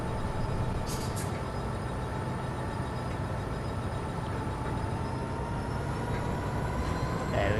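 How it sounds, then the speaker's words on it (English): In Train Sim World 2, on a London commuter line, a freight train's air brakes release as a long steady hiss over constant locomotive rumble and hum, loud and continuous. "Come on, the brakes should be releasing."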